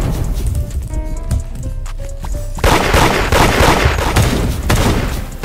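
Gunshots in the Roblox game Da Hood, a dense barrage of loud overlapping shots and booms that grows more intense midway and keeps going to the end.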